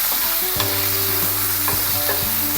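Salted eggplant is stirred in a frying pan for masala vankaya curry, with loud close sizzling under a few sharp spatula scrapes and knocks against the pan, and no talk.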